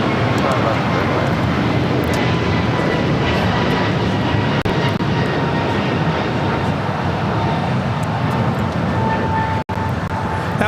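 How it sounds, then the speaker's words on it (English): An American Airlines Airbus A321neo jet takes off at LAX, a loud, steady broadband engine roar that holds throughout with little change, close and continuous, with radio chatter in the background. "That was American Airlines 1138 taking off to Charlotte on the A321neo."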